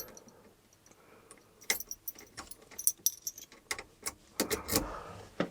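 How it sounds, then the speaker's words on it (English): Car keys for a Jaguar E-Type jangle in a series of bright metallic clinks and rattles, close and fairly loud, in irregular bursts over a quiet workshop background. "So, drop the keys. Let us put those in the ignition."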